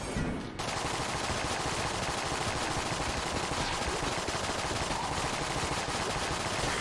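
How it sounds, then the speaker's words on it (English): Rapid automatic gunfire from a held trigger in the video game Enter the Gungeon, a dense continuous stream of shots running loud and steady for the whole stretch with no talking. "I love any gun that lets me just hold down the trigger and then not care."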